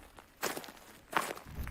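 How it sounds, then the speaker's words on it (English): Someone walks on gravel, two crunching footsteps heard close and fairly quiet in a short stretch, with no talking. "what I'm playing right now is audio of somebody just walking on gravel"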